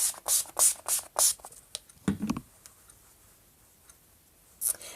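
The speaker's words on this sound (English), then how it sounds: "So you spray that on after." A rapid series of short, hissy bursts of makeup setting spray sprayed onto a face close up, then a brief rustle, near silence, and one more quick spritz near the end.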